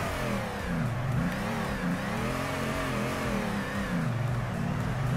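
A Yoshihara BRZ drift car in the Torque Drift racing game revs hard and accelerates, its engine note rising and falling through gear changes, loud and continuous with no talking.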